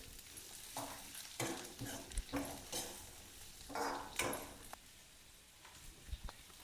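Onions fry in a little oil in a pot for a Telangana-style fish curry, with soft sizzling and a few scattered stirring scrapes, faint and close.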